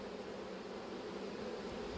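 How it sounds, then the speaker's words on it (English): Honey bees buzzing around a hive frame in an apiary, a continuous, even drone of many insects close by, with no talk over it. "the only way I can take a frame out of here now is to shake all these bees off"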